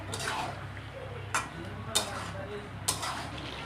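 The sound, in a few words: chicken with spices being stirred and sautéed in pan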